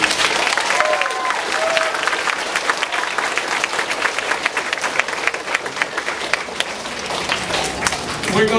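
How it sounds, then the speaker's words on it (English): Children and adults at an elementary school Veterans Day assembly clap in long, steady applause, a dense crackling patter with scattered cheers and voices mixed in throughout. "Let's give him one more round of applause"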